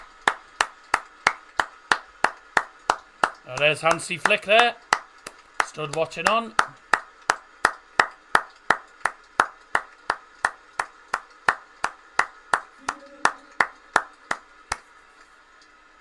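Before a Werder Bremen versus Bayern Munich Bundesliga match, a stadium crowd gives a memorial applause as slow, steady, evenly timed claps that continue for several seconds, with a commentator talking briefly over them.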